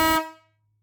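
An aftermarket truck horn gives one short, loud, blaring air-horn blast that cuts off and rings briefly into silence, with a low hum lingering.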